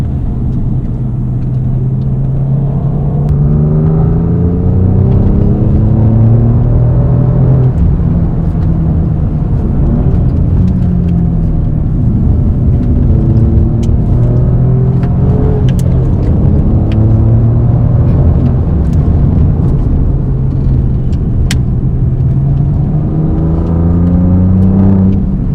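A turbocharged car accelerates hard in third gear with the throttle flat, its engine drone steady and loud. The pitch climbs in long sweeps as the revs rise, and road rumble runs underneath the whole time.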